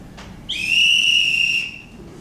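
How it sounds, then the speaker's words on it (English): A whistle with a small wooden ball inside gives a single shrill blast held for about a second, loud and close, with a slight warble, then stopping into quiet room tone. "You got a whistle that's got a little wooden ball in it. I'm gonna blow it."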